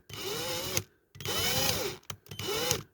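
Power drill with a 6mm bit boring into a diecast model's base plate, three steady whining bursts about a second long each, separated by short pauses, close and fairly loud.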